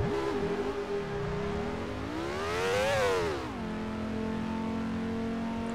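A Formula One race car engine in the Grand Prix 4 racing game drones at high pitch, with the revs dipping and rising, peaking in a surge of acceleration before settling back to a steady hum, heard alone at moderate level.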